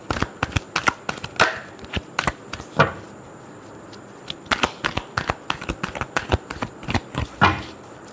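Tarot cards are shuffled by hand close up, a rapid run of crisp riffling taps and flicks in quick irregular bursts with a short lull midway.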